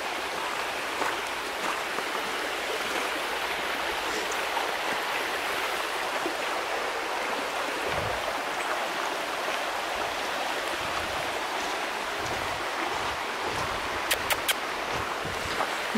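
Steady broadband rush of water flowing in a stream at the quiet back end of a park, continuous and fairly close, with a few faint knocks and rustles near the end and no talking.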